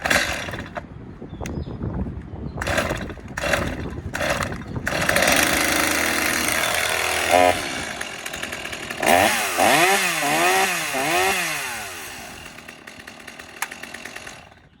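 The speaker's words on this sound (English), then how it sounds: "this was a startup video on a Stihl MS250 chainsaw" Several sharp pulls on a starter cord, then a Stihl MS 250 chainsaw engine roars to life, revving up and down loudly at close range.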